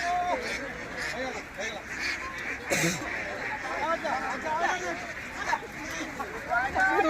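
Ducks quack and squabble at a duck hatchery, with a dense chorus of overlapping calls while people talk nearby.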